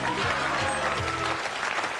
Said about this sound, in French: on a applaudi un peu avant le mot final